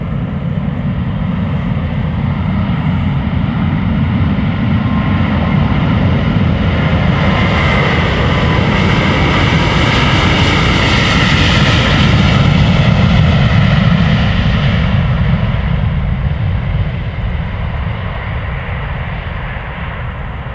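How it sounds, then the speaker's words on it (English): A Cathay Pacific Airbus A350-1000 jet takes off at Amsterdam Schiphol, its engines roaring loud and continuous for about twenty seconds, swelling as it passes close and then easing slightly. "This is Cathay Pacific, flight 270 to Hong Kong, an A350"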